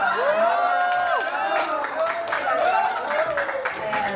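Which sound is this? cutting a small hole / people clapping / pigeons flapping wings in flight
people clapping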